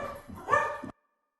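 A female dog barks in a short burst of several loud, close yaps indoors near a door, then stops abruptly into silence.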